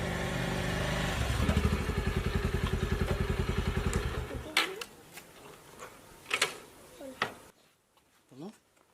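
A motorbike engine throbs with a steady, close pulsing rhythm for about four seconds, then cuts out, leaving scattered thumps and faint voices in a quiet room.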